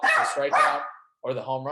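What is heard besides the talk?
dog barking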